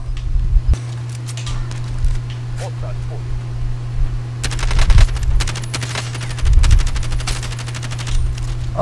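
Rapid automatic gunfire from a video game shooter rattles in dense bursts, loud and close, over a steady low hum, with a player talking between the volleys.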